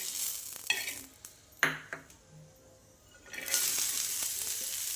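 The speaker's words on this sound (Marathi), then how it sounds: "इथे छान अशी ही भेंडी भाजायला लागली तुम्ही बघू शकताय." Okra roasting dry on an iron griddle, a soft hiss that fades in the middle and swells back, broken by a few clinks and scrapes of a utensil, close and fairly quiet, with no one talking.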